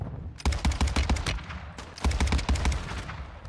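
Two bursts of rapid automatic gunfire from an SMG firefight in the Warzone video game, each a dense rattle of shots lasting about a second and a half, loud and close, separated by a brief pause.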